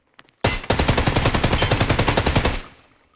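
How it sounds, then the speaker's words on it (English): A DT MDR .308 rifle loaded with M61 rounds in Escape From Tarkov fires one sustained rapid burst of roughly two seconds of loud, evenly spaced shots, then goes quiet. "since we're using M61 rounds, and it feels absolutely amazing to shoot"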